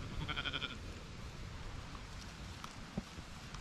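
A sheep bleats briefly in the distance over steady outdoor wind and rustling, then the field stays quiet.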